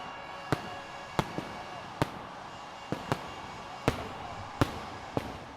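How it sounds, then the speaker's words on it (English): Fireworks burst over a Navi Mumbai stadium during the midnight celebration of India's first Women's Cricket World Cup win, with about eight sharp, irregular bangs cracking at a distance over a low background murmur. "The sky above Navi Mumbai glowed with fireworks."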